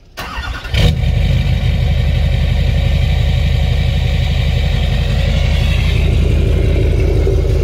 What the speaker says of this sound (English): we're gonna start with a cold start on an LBZ